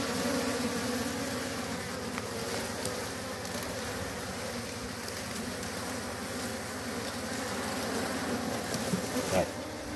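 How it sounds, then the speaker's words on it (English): Swarm of bees buzzing around a beekeeper's hands outdoors, a dense continuous drone of many insects close to the microphone, steady throughout. "Put the camera here so that they can see how we are taking the bees into."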